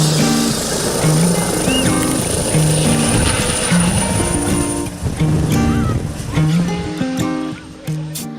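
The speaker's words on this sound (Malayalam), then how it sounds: "സ്വന്തം നിലയിൽ ഹെലികോപ്റ്റർ വാടകയ്ക്കെടുത്താണ് ജെയ്സ് സ്വന്തം ജന്മനാടായ വണ്ടൻമേട്ടിലേക്ക് ഇത്തവണ പോയത്." A chartered helicopter flies toward Vandanmedu in Idukki, its loud steady rotor and engine drone filling the scene, with a melodic tone line over the top and a slight dip in level near the end.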